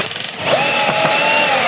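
A power drill drives a screw into the wooden seat of an outdoor chair, whining up in pitch as it bites, loud and close, for under two seconds.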